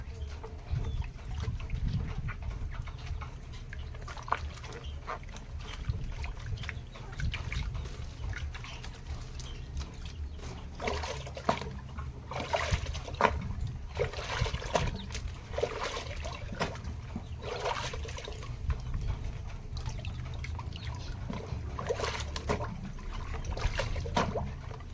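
Water drains out of an aquaponics pond in a steady, trickling splash that runs continuously at close range, with brief louder gushes and no voices.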